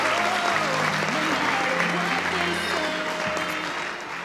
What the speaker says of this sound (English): Let's give all our mini contestants another big round of applause.